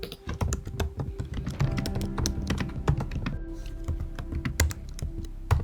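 Someone types an address on a computer keyboard, fast and steady: close, crisp clacks with occasional heavier thumps, running without a break for several seconds and with no talk.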